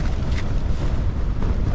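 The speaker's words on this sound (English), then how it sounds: "Be careful because that wind's coming under there." Strong wind buffeting a wild camp on the stormy Lake District fells, a loud continuous low roar battering the microphone for the whole stretch.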